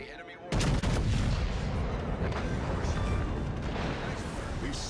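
Warship guns fire in World of Warships Legends in a heavy, continuous roar of booming naval gunfire that comes in abruptly and stays loud to the end.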